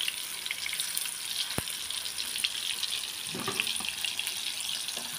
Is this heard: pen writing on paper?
no